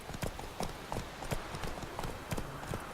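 Hooves of Geralt's horse Roach from The Witcher 3 clip-clopping in a steady trotting rhythm, moderately close, over a soft ambient background.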